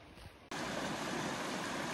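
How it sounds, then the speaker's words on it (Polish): Rushing river water roars as a dense, steady broadband wash that starts abruptly after a quieter half second and stays loud and close to the end. "Po szumie dochodzącym z nad rzeki spodziewałem się już, że będzie tu jakaś sztuczna bariera"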